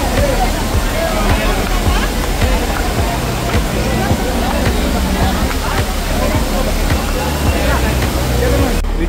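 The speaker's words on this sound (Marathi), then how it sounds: "मेन आंबोलीचा जो वॉटरफॉल आहे तिथे आम्ही पोचलेलो आहोत" The main Amboli waterfall in the Konkan, a loud, constant roar of falling water heard close by, with a crowd's babble and voices mixed in throughout.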